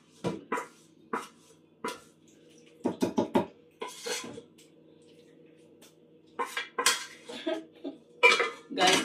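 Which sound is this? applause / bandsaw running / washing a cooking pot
washing a cooking pot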